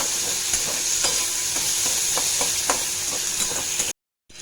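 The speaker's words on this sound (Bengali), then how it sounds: "পেঁয়াজটা আমার ভাজা হয়ে গেছে," Onion frying in oil with a dried chilli for Bengali prawn curry, a steady close sizzle broken by repeated scraping stirs of a spatula against the pan, then a brief drop to silence at the end.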